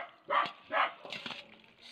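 A pet dog gives two quick close barks, then a softer whining yip, heard nearby in a home kitchen.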